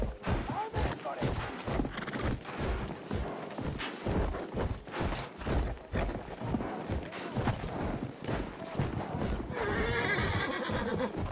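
Horse in the game Battlefield 1 gallops with steady, rapid clip-clop hoofbeats throughout and whinnies loudly, close and prominent with busy battle ambience around it.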